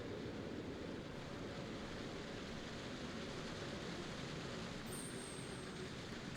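A waterfall in the video game Fatal Frame: Maiden of Black Water roars as a continuous, even wash of falling water, steady and moderately quiet throughout with no pauses.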